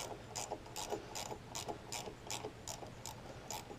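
A ratchet clicks in quick, steady strokes while loosening a handlebar bolt on a Harley Dyna motorcycle, a close, dry series of metallic ticks repeating evenly.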